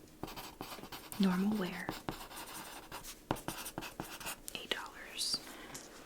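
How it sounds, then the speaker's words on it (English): A pen scratches across paper as a price label for a used book is written in a thrift store, close and crisp, with soft whispered speech. "So I'm going to write book 1,"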